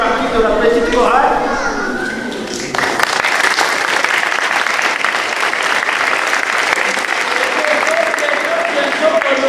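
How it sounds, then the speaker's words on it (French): At a youth Mass, the congregation applauds the little choir: a voice speaks briefly, then loud, sustained clapping from a crowd fills the church, with a few voices surfacing near the end. "On peut applaudir aussi ceux qui font partie de la petite chorale."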